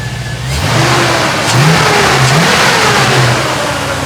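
A car engine revs smoothly after a fuel injector repair, climbing from a low idle into several loud, close rising and falling revs with no misfire, and no talk.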